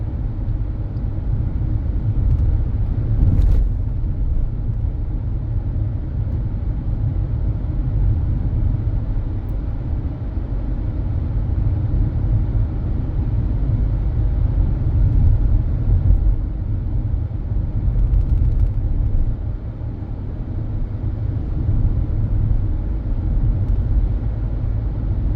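Steady low engine rumble and road noise from a car driving on the left through Bagatelle, St. Thomas, Barbados, a continuous in-cabin drone with no talking and one brief bump.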